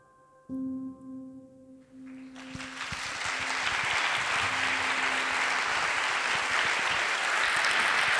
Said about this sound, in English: Yeah, applaud yourselves.